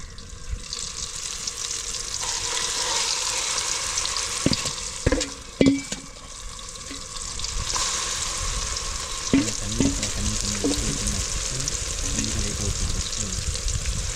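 Meat curry frying in masala with tomato, onion and green chilli, a continuous close sizzle broken by clattering stirs and scrapes of a spoon in the pan, no talk.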